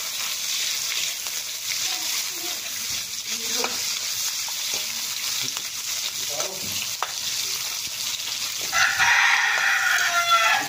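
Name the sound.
sautéing chicken in a pan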